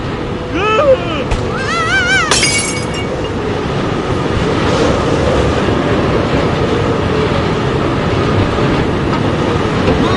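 A moving train rumbles on in the video game Forgotton Anne, its brakes dismantled, a loud steady roar and rattle that fills the scene after a few tonal musical notes at the start, with no talk.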